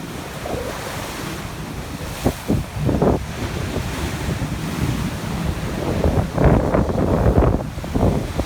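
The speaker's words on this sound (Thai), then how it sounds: "ทะเลมันจะเป็นแบบนี้คือซึ่งน้ำขึ้นแล้วก็ มีคลื่นลมแรง" Stormy sea at Bang Saen beach in Thailand, with high tide and strong onshore wind: a continuous roar of surf with heavy wind buffeting the microphone, and several louder wave crashes breaking close by. No one speaks.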